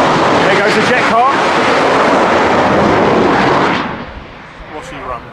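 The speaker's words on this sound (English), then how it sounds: "There goes the jet car." Jet car roaring past at a drag racing event at Santa Pod Raceway, a loud broad engine blast that holds close, then fades quickly into the distance over crowd and outdoor background noise.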